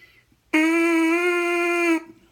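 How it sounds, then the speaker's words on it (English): A single steady buzzing tone from a trumpet mouthpiece, bright and reedy, held for about a second and a half with a clean start and stop. "For a trumpet, a buzz will sound like this."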